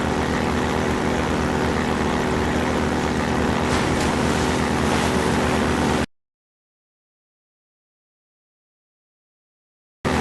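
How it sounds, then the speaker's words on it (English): Airboat engine in the Half-Life 2 video game, a loud steady roar driving over water for about six seconds, then cutting off abruptly into silence before briefly resuming at the very end. "Driving the airboat, head right over land and aim for the 4 black dots."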